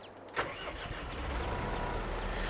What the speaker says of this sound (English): Let's get up there with the tractor